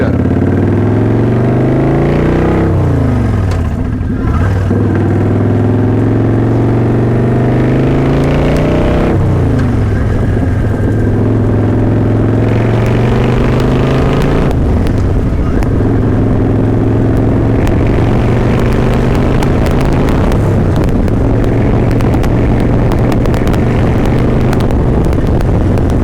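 Motorcycle engine revving up through the gears, its pitch climbing hard and then dropping at each of about four shifts, loud and close throughout with no talking.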